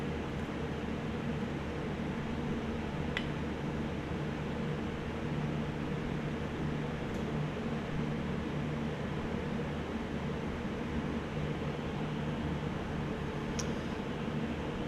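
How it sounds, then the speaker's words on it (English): An ultrasonic cleaner hums and hisses steadily with the carburetor from a Briggs & Stratton Vanguard engine on a Generac generator soaking inside, a constant close buzz with a few faint ticks and no talk. "we've got the carb baking in the ultrasonic there"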